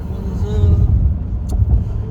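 Car interior in Manhattan, New York, with a steady low road rumble throughout and a brief higher whoosh near the middle, heard from inside while driving.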